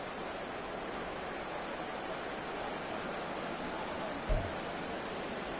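Steady rain hisses evenly throughout a Madden football video game match, a constant wash of noise at moderate level with one faint low thump near the end.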